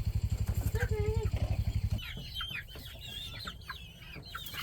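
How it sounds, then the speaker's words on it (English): Stressed chickens in a new pastured poultry pen cluck and squawk busily after a steady pulsing engine-like drone at the start, with a voice briefly underneath. "chickens in their new home. They're a little loud right now and stressed out"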